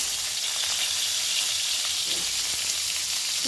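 Pumpkin pieces fry in hot oil in a pan, left over from frying eggplant, giving a steady, close sizzle with a bright crackling hiss that stays even throughout.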